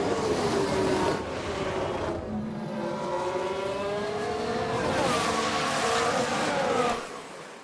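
A Mercedes race car spinning out in F1 Manager 22: a sustained engine whine sweeps and wavers in pitch through the slide, then drops away near the end, with no voices.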